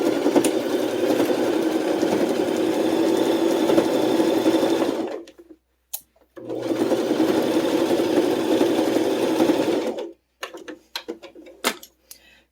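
A sewing machine stitches through fabric in reverse, running in two long steady bursts of close, loud mechanical whirring separated by a brief pause, then ending in short stop-start clicks.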